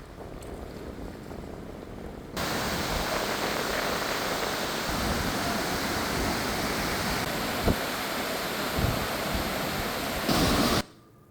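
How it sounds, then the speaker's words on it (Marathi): Water released from the Kasarsai dam spillway into the Kasarsai river at about 1,360 cusecs makes a dense, steady roar that begins suddenly and holds loud and even until it cuts off near the end. "धरणाच्या सांडव्यातून कासरसाई नदी पात्रात तेराशे साठ क्युसेक्सनं विसर्ग सुरू करण्यात आलाय"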